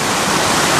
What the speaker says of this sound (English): a nice place to take a shot of the waterfall in the back of me